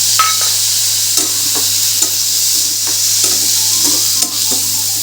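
Garlic, ginger, chillies and tomato sizzling as they roast in a pan, with a steady hiss broken by repeated scrapes and stirring clatters of a spoon, close and loud with no talk.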